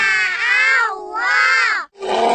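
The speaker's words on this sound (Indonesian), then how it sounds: "Itu suara singa." A lion gives a deep, drawn-out roar in two long swells, separated by a short pause, followed by a brief gruff grunt, close and loud.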